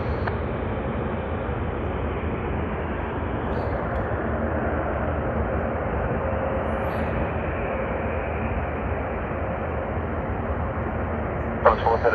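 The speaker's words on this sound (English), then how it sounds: "We have on screen one world livery of Cathay Pacific's Boeing" A Cathay Pacific Boeing 777-300ER in oneworld livery at Sydney Airport rumbles steadily with a low, sustained jet engine drone over a broad band, fairly loud and unchanging, with brief radio chatter faintly present.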